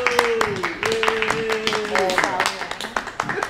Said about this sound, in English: A round of applause for the man.